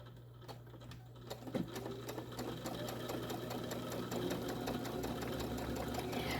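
A sewing machine stitches a tote bag with a steady, fast needle rhythm of regular mechanical clicks over a constant motor hum, close and without voices.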